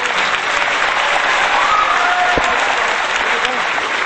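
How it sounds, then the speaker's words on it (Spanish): A studio audience breaks into loud, sustained applause welcoming a musical act onto a Spanish-language television show, with dense clapping running steadily throughout and no speech over it. "un fuerte aplauso para recibir a esta sensación del año"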